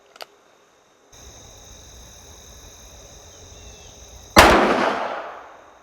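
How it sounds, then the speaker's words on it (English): A single sharp, loud gunshot from a .357 Magnum firing a 125-grain Freedom Munitions factory load cracks out at a range and rings away over a second, after a quiet stretch with a faint steady background tone. "And on we go to the 357 Magnum. This is going to be 3 rounds."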